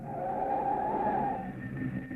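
A car brakes and skids in a radio drama, with a sustained tire squeal followed by a low engine hum. The sound is moderately loud and plays alone without speech.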